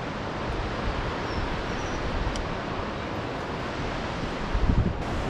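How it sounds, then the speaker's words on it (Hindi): The Rupin river rushing along a Himalayan mountain trek route in Himachal Pradesh, a loud continuous broadband roar of flowing water with wind buffeting the microphone throughout. "सामने रूपन नदी"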